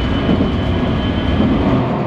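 Steady low rumble and rattle of an empty tram in motion, continuous and fairly loud, with no talking.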